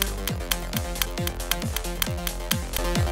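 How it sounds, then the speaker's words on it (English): Sonification of the Schumann resonance, Earth's 7.83 Hz electromagnetic pulse, heard as a steady loud drone with regular heartbeat-like thumps and falling tones recurring about every half second, no voices. "they can combine and intensify to produce the Schumann resonance, which is the recurring heartbeat of the atmosphere"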